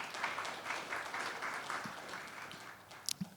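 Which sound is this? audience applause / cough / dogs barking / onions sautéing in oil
audience applause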